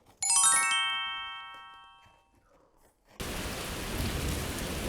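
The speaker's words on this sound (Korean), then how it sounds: "아버지, 비가 와요." A bright ringing chime fades out slowly, then after a brief pause a steady, dense rain sound effect begins and continues evenly at close range.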